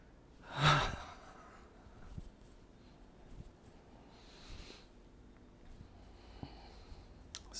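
A deep, audible breath during a qigong exercise, one strong close exhale early on, followed by quiet, softer breathing in a calm room.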